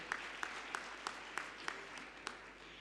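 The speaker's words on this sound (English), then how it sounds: "a big round of applause for all those who have supported you in funding" Graduation ceremony audience applauding supporters, heard faint and distant: a soft continuous wash of clapping with sharper single claps standing out at a regular, steady pace.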